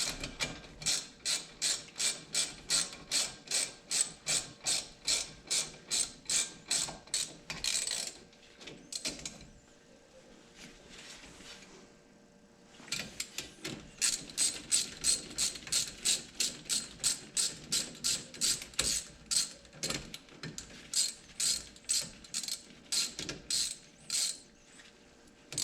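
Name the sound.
ratchet tightening bolts on Ford Fiesta wheel hub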